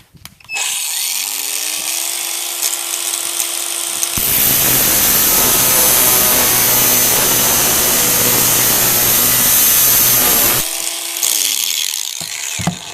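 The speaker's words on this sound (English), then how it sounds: "That's not good grab at all, and that's a Phillips 3. So take angle grinder," An angle grinder spins up, then cuts for several seconds into a rusted Phillips No. 3 screw with a loud, harsh broadband grinding roar, and finally winds down, with no talking.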